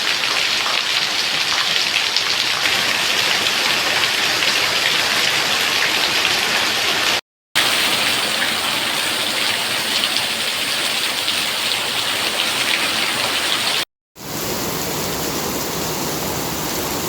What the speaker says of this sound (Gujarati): વરસાદ વરસતા વાતાવરણમાં ઠંડક પ્રસરી હતી.